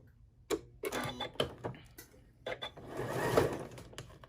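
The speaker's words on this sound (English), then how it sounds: "Here we are over at the sewing machine, and we are going to start our stitching" A sewing machine stitches a half-inch seam on a fabric lingerie wash bag in short bursts of rapid mechanical whirring and clicking, close by, pausing between stitches.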